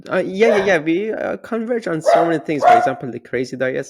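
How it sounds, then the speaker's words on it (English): A dog barks in short bursts in the background, partly buried beneath a steady conversation between people. "My apologies for my dog barks."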